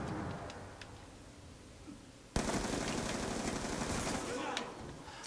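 Gunfire in the Call of Duty Black Ops 2 video game, starting as scattered clicks and ticks before a sudden loud burst of sustained automatic fire that continues for a few seconds and then eases off.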